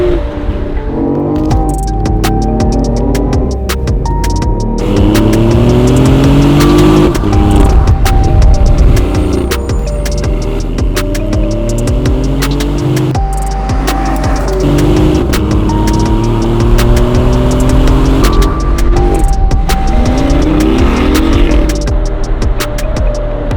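A loud 3-cylinder engine in a 2015 BMW i8 in sport mode runs continuously, revving up and down repeatedly, with gear changes and rising pitch sweeps throughout.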